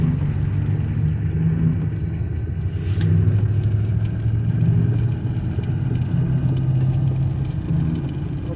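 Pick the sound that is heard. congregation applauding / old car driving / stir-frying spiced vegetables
old car driving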